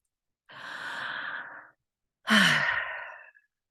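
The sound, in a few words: a deep breath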